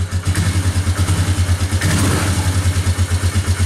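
A car engine with no choke runs on after a hard start, rough and steady and close, its low pulsing idle holding with a clattery mechanical rattle for the whole stretch.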